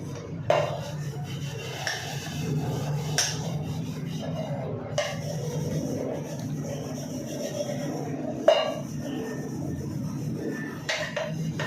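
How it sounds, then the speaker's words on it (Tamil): Steady scrubbing and rubbing against metal milk vessels, with occasional clinks and clatters of pots, continuous and close by with no talking. "ஒரே டைமில் இத்தனை பால் பாத்திரம் தேய்க்கிறேன்"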